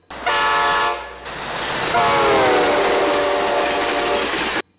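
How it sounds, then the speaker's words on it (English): A passing train sounds a loud, sustained horn whose pitch drops noticeably as it goes by, shifting from a high tone to a lower one over several seconds, alone and up close. "it's the reason that this train sounds different as it passes."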